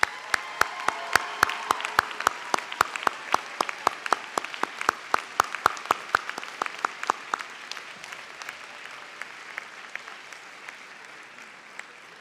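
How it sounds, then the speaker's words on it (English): A commencement audience at a nursing school ceremony applauds faculty with steady, crisp clapping that thins into scattered, fading claps after about seven seconds. "Please join me in a round of applause to recognize them."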